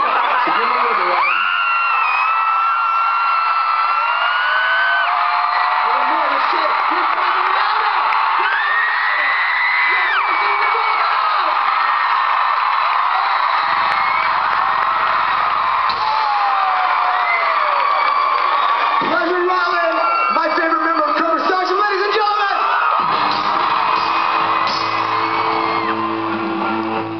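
A crowd at a child's birthday party cheers and whoops loudly and nonstop, with high shouts and yells rising and falling over a steady wall of voices.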